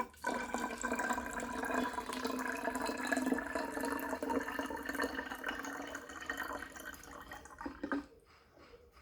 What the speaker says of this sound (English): I just pour the rice water inside my spray bottle.